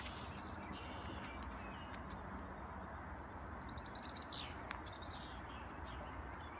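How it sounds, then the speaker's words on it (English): Crows call outdoors along a nature walk, a few short caws and chirps in a cluster about midway, faint to moderate over steady broadband background noise. "I don't usually get that close to crows."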